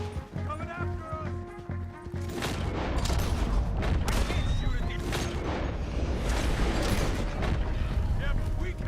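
Repeated gunfire in Red Dead Redemption 2, a dense volley of shots and booms in a chaotic fight, mixed under shouting voices throughout.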